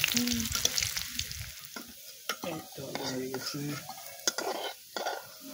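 Potatoes frying in a pan at an outdoor backyard picnic cookout produce a soft sizzle with frequent clinks and scrapes of a metal utensil against the pot, in irregular bursts.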